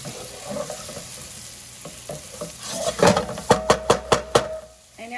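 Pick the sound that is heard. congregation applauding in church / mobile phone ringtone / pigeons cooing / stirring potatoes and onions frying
stirring potatoes and onions frying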